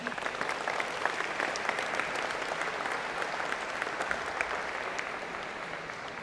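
A college of engineering convocation crowd gives a big round of applause for a new biomedical engineering program, dense sustained clapping that stays loud and steady the whole time.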